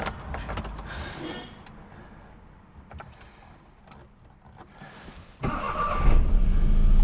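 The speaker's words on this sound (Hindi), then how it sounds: "if you don't like too much of engine noise, मत खरीदो" Maruti 800 car started with a key: a short clicking rattle and faint whirring, then the small engine catches and settles into a loud, rough idle near the end, with no talking.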